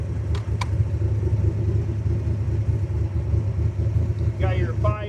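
A fuel-injected 427 V8 in a Factory Five MK4 Cobra replica with a 5-speed manual idles with a deep, steady, lumpy rumble close by, and a voice briefly sounds near the end.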